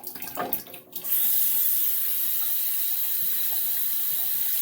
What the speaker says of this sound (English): Okay, so I'm just rinsing the razor off.